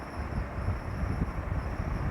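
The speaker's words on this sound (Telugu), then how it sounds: "వందే భారత్ ట్రైన్ అండి." Steady low rumble and rattle of a Vande Bharat train running, heard from inside a carriage, continuous and even throughout with no voices.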